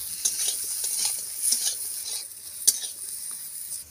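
A katla fish head coated in salt and turmeric fries in hot oil in a home kitchen, a steady sizzle with occasional scrapes and light clinks of a utensil against the pan.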